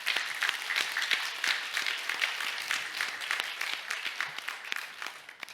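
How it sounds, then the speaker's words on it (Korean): A church congregation claps together after a choir anthem, a bright crackle of many hands, close and steady at first and gradually thinning toward the end. "하나님께 박수로 영광 돌리겠습니다"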